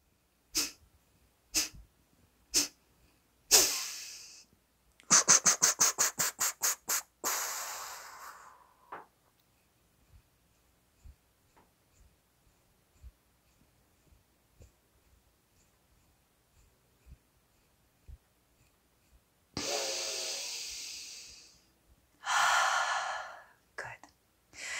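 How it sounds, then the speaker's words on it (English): Yoga fire breathing in the Kapalabhati style: close, forceful nasal exhalations, first a few spaced puffs and then a rapid burst of pumping breaths, quieter short snorts after that, and long strong exhales near the end, with no talking. "again, four Kapalabhati breaths."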